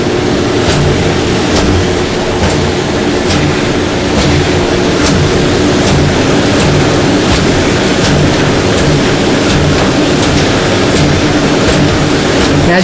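A Formax FD550 paper burster running continuously, a loud, close, steady mechanical drone with faint rhythmic ticking as sheets feed through, no pauses.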